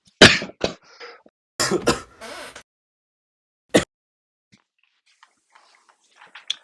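A single person coughs a few times in short, sharp bursts, close and fairly loud, with quiet gaps between and faint rustling afterward.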